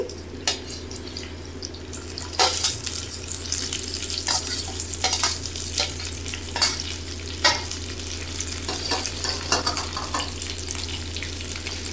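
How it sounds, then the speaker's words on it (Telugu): Green chillies and curry leaves fry in oil in a pan, a continuous close sizzle broken by repeated scraping stirs and crackles, with a steady low hum underneath. "కరివేపాకు లైట్గా ఫ్రై అయిందండి తర్వాత అయితే పచ్చిమిర్చిని వేసుకొని వేయించుకోవాలి"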